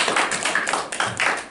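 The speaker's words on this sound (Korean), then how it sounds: "박수를 한번 하겠습니다" A church congregation claps together, a dense burst of rapid overlapping hand claps that swells and fades in short waves.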